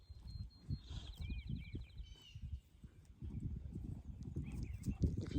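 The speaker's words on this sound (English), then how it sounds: "Get out of the truck, you silly horse." A horse on a ranch walks on hard ground near a truck, its hooves clip-clopping in a steady, close rhythm. Faint chirps sound early on, and a low voice murmurs in the background.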